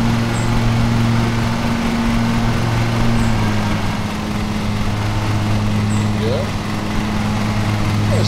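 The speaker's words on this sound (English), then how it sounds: "This isn't a bad mower, actually." A riding lawn mower engine in the video game Lawn Mower Simulator drones steadily and loudly throughout, a constant mechanical hum with a person talking over it.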